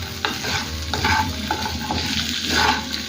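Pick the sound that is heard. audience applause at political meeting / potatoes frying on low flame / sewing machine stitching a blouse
potatoes frying on low flame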